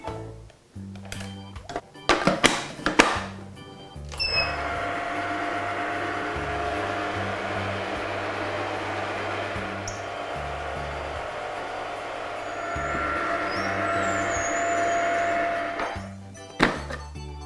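An ice cream machine churning raspberry sorbet, a steady motorised whir and hum lasting about twelve seconds, preceded and followed by a few clunks and knocks of handling.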